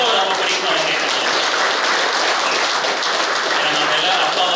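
A full audience of kabaddi umpires bursts into steady, dense applause that holds at an even, loud level throughout, filling an indoor hall at a motivational class.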